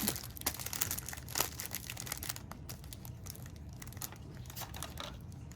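A small craft piece being trimmed gives off close crinkling and crisp snipping rustles, busiest at the start and then continuing more softly in scattered bursts.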